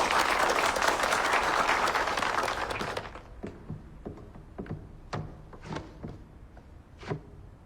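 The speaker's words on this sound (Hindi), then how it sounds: "जोरदार तालियां हो जाएं।" Loud, dense applause from an audience greeting a university student onstage, a sustained wash of clapping for about three seconds that cuts off, followed by a handful of scattered, spaced knocks and taps in a quieter room.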